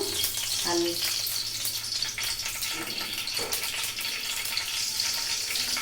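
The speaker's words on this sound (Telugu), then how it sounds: "ఆవాలు, జీలకర్ర కొంచెం చిటపటలాడివ్వండి." Mustard and cumin seeds splutter in hot oil in a pan, a dense continuous frying hiss with scattered little pops, close by and fairly loud, no talking.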